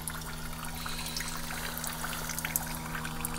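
Defrost meltwater drains from an LG Friedrich mini split heat pump into a bucket on a freezing night, a steady soft pouring trickle under a constant low hum, alone.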